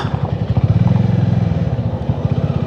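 A motorcycle engine chugs along in heavy rain on a Konkan road, a rhythmic, pulsing low rumble, loud and close throughout, rising slightly toward the end.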